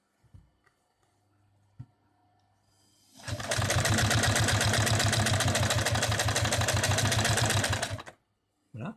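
An Adler sewing machine with a slow-running motor on a 50 mm pulley stitches through six layers of nylon webbing, giving a loud, rapid, even mechanical chatter for about five seconds. Brief handling noises come before and after it.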